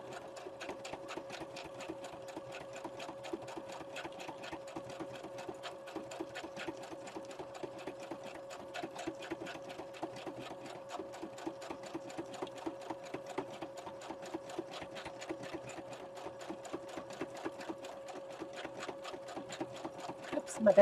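Sewing machine stitching through a grocery bag junk journal, a steady continuous whir with a rapid needle rhythm running throughout at close range, no talk over it.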